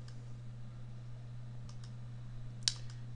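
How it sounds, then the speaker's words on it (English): A few faint computer mouse clicks during Windows setup, with one sharper click near the end, all over a steady low hum. "I'm gonna click Install Now."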